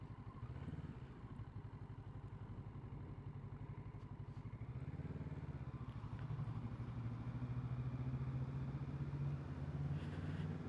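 A Kawasaki Z650RS motorcycle engine thrums close by with a steady rhythmic putter, its pitch rising and falling through gear changes and growing louder toward the end, riding through Murray Bridge streets.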